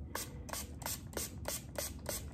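A hand spray bottle mists water onto paper towels in a container: seven quick, evenly spaced hissing spritzes, close and fairly quiet, with no voices.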